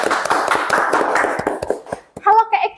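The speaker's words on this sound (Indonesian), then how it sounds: "Tepuk tangannya teman pemilih." Audience clapping at an Indonesian dangdut podcast show breaks out in a dense burst, then trails off into a few scattered claps before a voice speaks.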